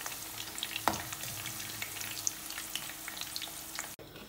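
Okra frying in oil in a pan for a Sri Lankan okra curry, a steady dense sizzle and crackle throughout with occasional stirring scrapes, close and loud, cutting off abruptly near the end.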